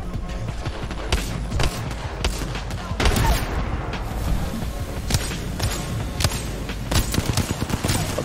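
Wingman shots from the Apex Legends shooter ring out as a string of sharp, separate reports with brief gaps between them, louder bursts near the middle and end, with some talking mixed in.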